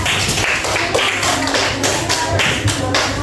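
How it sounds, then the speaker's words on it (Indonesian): Children in a classroom clap together for a classmate who answered correctly, a steady run of fairly loud, dense claps that fills the whole moment without any talk. "Tepuk tangan dulu untuk Manda."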